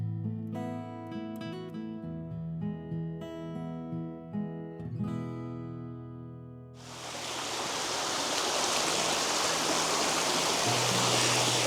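Waterfall at Rock Island State Park, Tennessee: after several seconds of soft piano music, a loud, close, steady rush of falling water surges in and continues to the end.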